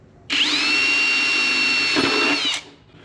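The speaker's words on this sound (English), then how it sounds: "I'm gonna drill a couple holes right on this ridge on either side of the tube." A power drill whines loudly and steadily for about two seconds as it bores holes into a ridge on a tube for a Christmas mini-tank build, then winds down; no voices.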